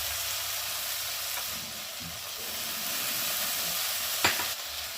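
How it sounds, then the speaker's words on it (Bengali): A spice paste for katla fish curry is slowly sautéed in a pan, giving a steady close sizzle with soft stirring scrapes and one sharp clack near the end, and no voices. "মশলাটা ধীরে ধীরে 2-3 মিনিট ধরে কষিয়ে নিচ্ছি।"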